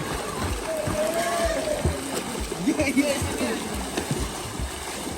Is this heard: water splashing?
yes